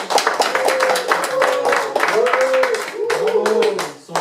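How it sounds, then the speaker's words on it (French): Audience clapping for two game-show contestants, brisk, close hand claps running throughout while a voice speaks over them, mixed with a few musical tones. "On les applaudit bien fort."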